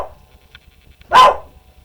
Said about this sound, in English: Nice little doggy barky break.